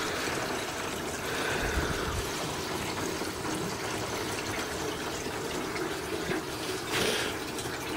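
Water running steadily into a fish tank from a hose, a continuous close rushing stream with faint gurgles throughout.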